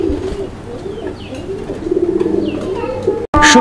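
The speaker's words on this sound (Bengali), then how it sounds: "একদম ভরপুর ডাকের একটা কবুতর, খুব সুন্দর ডাকতেছে" A large Raj-golla breed pigeon coos in close, repeated rolling calls with nearby voices and background noise, ending in a sudden louder burst.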